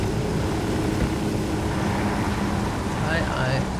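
Helicopter in the video game Ghost Recon Wildlands, a steady loud rotor and engine drone running throughout, with a voice talking over it.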